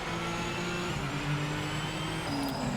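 A Lamborghini Huracan GT3 in the Project Motor Racing game at Silverstone makes a steady, droning engine note with a faint pitch shift. It runs alone at moderate volume with no voices.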